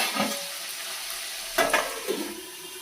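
Carrot and cabbage cook in a pan with garlic, giving a soft steady sizzle with a few brief louder stirring scrapes, close and without talking.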